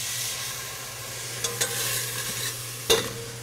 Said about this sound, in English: I'm going to stir that around for a couple seconds, get the natural oils of the spices to come out